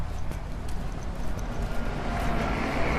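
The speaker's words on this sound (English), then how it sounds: "Traffic noise." Steady street traffic rumbles outdoors at a rescue news scene in Thailand, a constant broadband wash of passing vehicles with no break across the few seconds.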